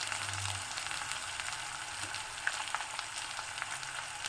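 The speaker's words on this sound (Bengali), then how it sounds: "মশলাগুলোকে সুন্দরভাবে কষিয়ে নিয়েছি।" Spices sauté in a pan with a little sugar and chilli powder for a vegetarian dish, giving off a faint, steady sizzle with a soft clink partway through.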